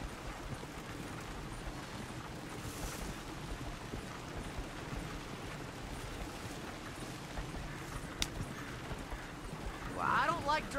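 A horse's hooves clip-clop along a road in the western video game Red Dead Redemption 2, a soft steady rhythmic patter under a voice.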